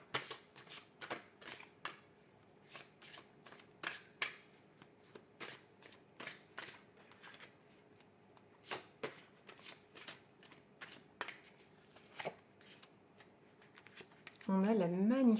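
Oracle cards are shuffled and drawn by hand, a quiet, close run of soft riffling flicks and slaps in an irregular rhythm, ending in a brief louder rustle.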